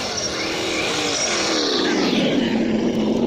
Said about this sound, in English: See that screechy sound? The problem is with that rear drive shaft.